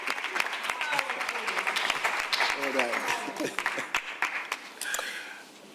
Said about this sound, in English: I want to applaud the speakers for managing time.